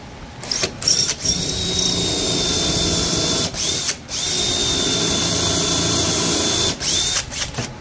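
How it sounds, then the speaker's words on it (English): Power drill boring three holes into a wooden hall tree with a jig, a steady high motor whine running almost continuously, broken by three brief pauses between holes. "Let's go ahead and drill our three holes."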